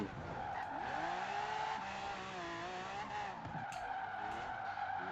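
A car in the racing game Forza Horizon 4 drifts under handbrake, its tires screeching in long wavering squeals over a constant engine roar, loud and close with no talking.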